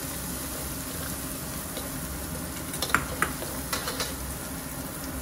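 Turmeric-spiced chutney fries in a pan with a soft, steady sizzle, and a few sharp clinks of a spoon stirring against the pan come in near the middle.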